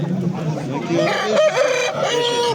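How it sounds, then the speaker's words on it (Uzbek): A rooster crows loudly and close, a single drawn-out call over the noisy background of a livestock bazaar in Namangan. "Xo'rozlar."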